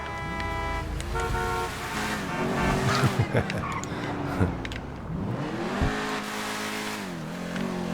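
A Grotti GT500 sports car engine in the video game GTA 5 Online revs and roars continuously, with tire squeals and a few short honks, loud and up front.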